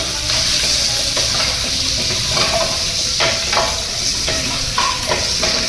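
Browned garlic with capsicum and onion frying in hot oil for a dhaba-style chicken kadai, giving a steady, close sizzle broken by repeated stirring scrapes throughout.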